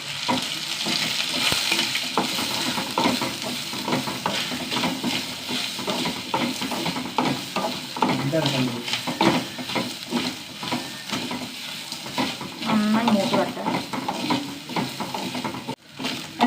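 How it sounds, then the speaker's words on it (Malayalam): Grated coconut roasts in a pan while being stirred, producing a continuous close sizzle with steady scraping and occasional light clinks of the utensil, and no talking. "ഇതായി ഒന്ന് മൂത്ത് വരുന്നുള്ളൂ കേട്ടോ തേങ്ങയൊക്കെ"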